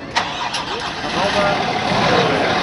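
A new Scania S500 truck engine cranks and catches, then settles into a loud, steady diesel idle close by, with a voice briefly audible near the start.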